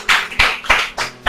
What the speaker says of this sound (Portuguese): Então dê um aplauso para glorificar a Jesus.